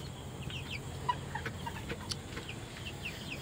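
Chickens cluck and chirp at a poultry farm, a steady scatter of short calls from several birds at moderate distance, with no talking.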